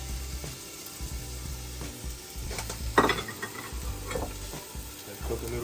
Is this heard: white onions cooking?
yes